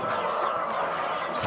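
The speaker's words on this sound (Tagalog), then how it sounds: "Andyan pala yung mga pangitlogin nating manok sa loob" Laying hens cluck and murmur together inside a coop in a close, busy chorus, a continuous overlapping chatter of several birds.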